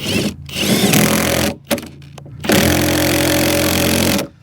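A loud power drill drives lag bolts into a board while a mailbox is installed, whining in two long sustained runs broken by brief stop-start pulses.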